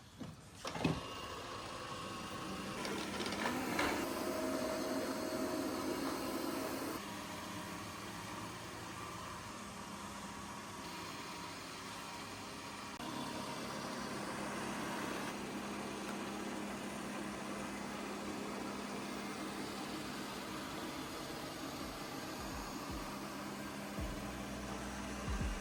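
A robot vacuum cleaner running in suction-only mode, a steady close whirring motor with a broad airy hiss that keeps going throughout, shifting slightly in pitch and intensity as it moves along.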